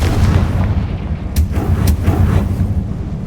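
A Confringo blasting spell explodes in the Hogwarts Legacy video game, a loud, dense rumbling boom with a couple of sharp cracks inside it and a sustained low roar throughout.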